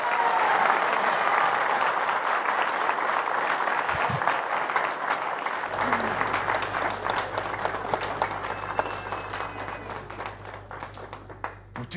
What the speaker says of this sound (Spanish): el licenciado Luis Alberto Arce Catacora, para quien pido aplauso fuerte, por favor